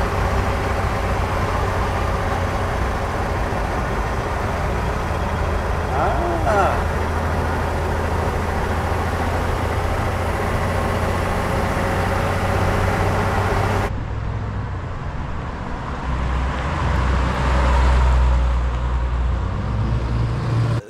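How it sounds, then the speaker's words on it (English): A 1946 Chevrolet half-ton pickup truck driving and gathering speed, its engine and road noise a loud, continuous drone, with a slight change in tone partway through. "We got the 46 moving up the speed here,"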